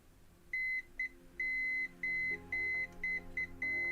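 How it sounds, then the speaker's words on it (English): Piezo beeper on a DIY soldered Dig-Quad v3 board sounding a series of sharp, steady electronic beeps in uneven bursts, some long and some short, close and clear over a faint low hum, with no talk. "Now let's see if beeper goes off still."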